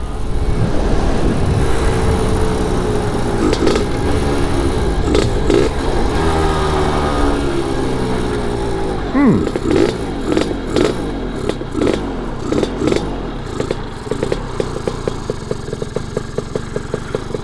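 A Lambretta scooter with a freshly repaired slipping clutch, ridden on a road test, its two-stroke engine running loud and close throughout with steady droning and rising and falling revs as it slows to pull in.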